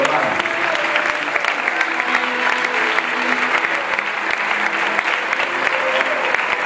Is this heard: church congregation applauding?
yes